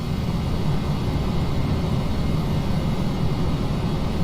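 A Fokker F50 turboprop airliner taking off in the Prepar3D v5 flight simulator, its engines giving a steady loud drone with a low rumble that stays constant throughout, with no voices.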